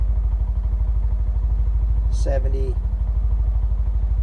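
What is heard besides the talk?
cheap Tractor Supply UTV engine idling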